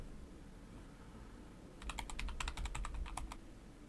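Fast burst of keystrokes on a computer keyboard, a quick run of clicky taps starting partway in after a near-silent stretch, close and fairly quiet.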